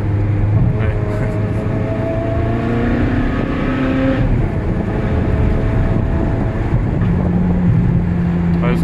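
Ferrari 360 engine held low in the revs, a steady loud drone with slowly shifting pitch and a light rise near the end, while people talk over it inside the car.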